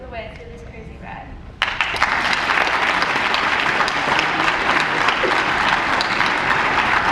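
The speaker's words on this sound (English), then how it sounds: "I invite all of you, my classmates, to join me in a round of applause for all of our parents, teachers, school administrators" After a moment of quieter talk, a high school graduation crowd bursts into loud, dense applause that holds steady and close for several seconds.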